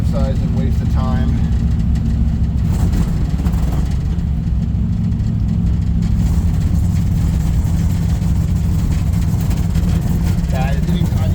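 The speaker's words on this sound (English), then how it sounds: "anytime you give it more throttle, it just dies" An old truck engine, either a 1964 Chevy Suburban or a 1974 Ford 1-ton, runs with a loud, steady low rumble that never lets up, with a carburetor fault making it stall whenever it gets more throttle.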